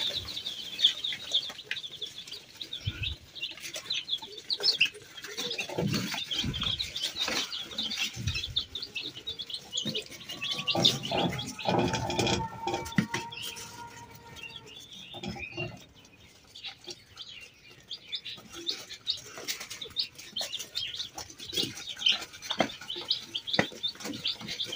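Baby chicks in a brooder chirp busily as they come to drink fresh water, a constant overlapping chorus of high peeps with some louder calls close by, and no talking.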